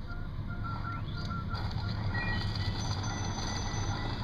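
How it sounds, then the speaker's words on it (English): A train rumbles past in Luigi's Mansion, a continuous low drone filling the whole stretch at steady volume, with a few thin high electronic tones on top. "in here is a train going by and a ton more money"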